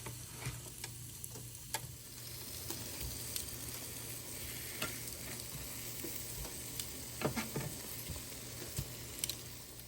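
Plant-based sausages sizzle on a grill in a faint, even hiss, dotted with occasional small pops and ticks, over a low steady hum.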